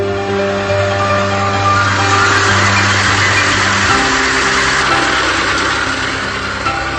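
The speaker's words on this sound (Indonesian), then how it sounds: "Sebelum dilakukan pemanenan, kita lakukan dulu penyedotan air dengan mesin sehingga memudahkan pengambilan udang." Engine-driven pump drawing water out of a shrimp pond for harvest, giving a steady, loud, continuous motor drone with a shift in pitch partway through and no talking.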